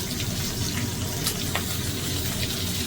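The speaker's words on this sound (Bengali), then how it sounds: "সবগুলো মাছ আমি একইভাবে ভেজে নিয়েছি" Fish shallow-frying in oil in a pan over a raised gas flame, a steady dense sizzle and crackle that holds evenly throughout, close and fairly loud, with no talking.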